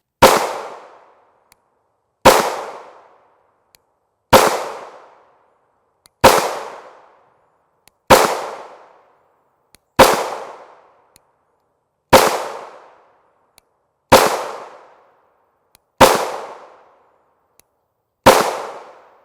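A 9mm pistol with a long slide fires 124 grain FMJ rounds: ten sharp, loud single shots spaced about two seconds apart, each ringing out briefly before near silence.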